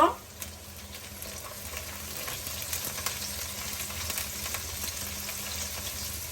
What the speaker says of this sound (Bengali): এখন আবারও আমি দিয়ে দিব রসুন কুচি।